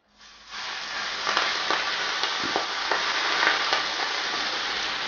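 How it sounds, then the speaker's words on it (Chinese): Hot oil is poured over a dipping sauce of garlic, chili, spring onion and aged vinegar, setting off a loud, close, steady sizzle. It swells quickly at the start and crackles on without a break. "整点小油滋辣一下"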